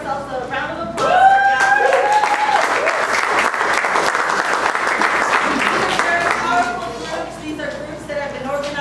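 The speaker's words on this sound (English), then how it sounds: "So I'd like to give ourselves a round of applause." A round of applause from the audience at a protest workshop and organizing meeting, loud dense clapping swelling in at once, holding steady for several seconds, then thinning out near the end, with a voice over it at the start.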